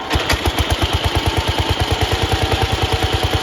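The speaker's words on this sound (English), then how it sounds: "you just turn the key and it should fire right up" A Gilson S series garden tractor engine catches and settles into a steady, loud idle, its rapid regular firing pulses thumping evenly throughout with no voices.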